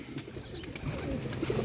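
Pigeons released from a rooftop coop coo softly among faint outdoor background noise, with a few scattered low calls against a steady ambient hum.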